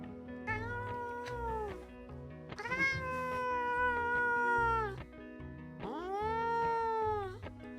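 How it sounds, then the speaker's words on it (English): A pet cat howls in long, drawn-out wails, three loud sustained cries close to the listener with short pauses between, no talking over them. "she sounds like an abused cat, but she's not."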